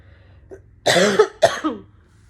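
A quiet lead-in followed by two harsh, close coughs in quick succession.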